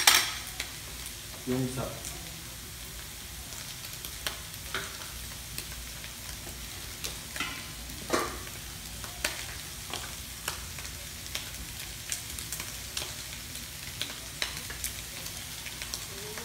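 A spoon stirs food in a hot frying pan, producing a quiet continuous sizzle with scattered scraping clicks and taps, while a voice briefly speaks at the start.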